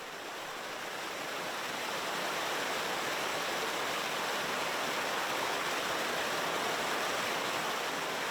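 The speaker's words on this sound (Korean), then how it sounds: "세차게 흐르는 계곡의 물소리는 듣는 것만으로도 어쩐지 시원해지죠" Rushing water of a mountain valley stream at Hwayang Gugok, a steady broadband roar close by that swells slightly and holds constant throughout, with no voices.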